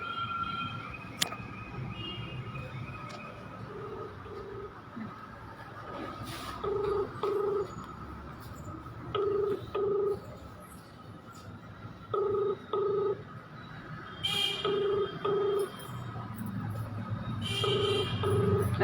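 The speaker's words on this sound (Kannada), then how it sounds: "ಫೋನೇ ತೆಗಿತಾ ಇಲ್ಲ" An unanswered outgoing phone call rings as a steady pattern of paired ringback tones repeating at regular intervals, with faint room noise between the rings.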